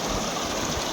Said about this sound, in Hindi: पानी बहते हुए कितना सुंदर लग रहा है, साफ साफ पानी एकदम